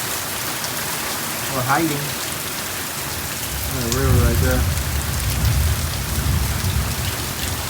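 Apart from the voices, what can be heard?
rain falling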